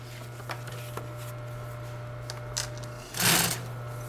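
A Consew 206RB-5 walking foot industrial sewing machine stitches vinyl, a steady motor hum with a short louder burst of stitching near the end and no talking.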